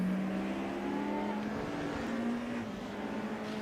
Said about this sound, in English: Andreas is starting to head out of the pits now in the number 4 Mercedes.